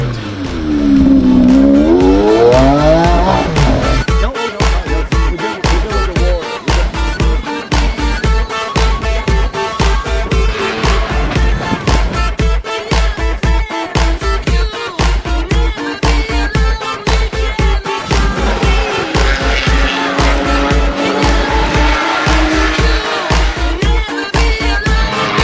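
A Lamborghini Murcielago racing on the Targa Newfoundland rally, its engine revving loudly up and down through hard accelerations and gear changes, heard close and continuous for the whole stretch, with occasional tyre squeal.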